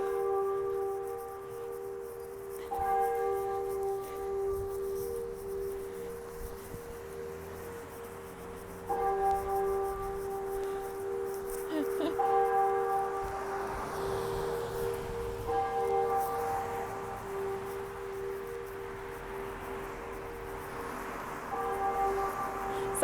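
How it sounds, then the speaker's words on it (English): Church bells ring in a steady, sustained peal for a long stretch, moderately distant, with tolling strokes recurring throughout and no talking heard. "it's like impossible to like hear me talk when the bell's going off crazy"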